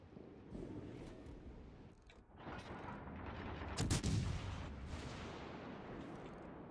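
Naval guns firing armour-piercing shells from a warship in World of Warships Legends, a run of heavy booming blasts with one louder burst in the middle over constant battle rumble, no talk.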